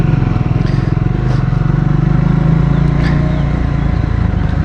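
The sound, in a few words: Triumph Scrambler 400X motorcycle riding off-road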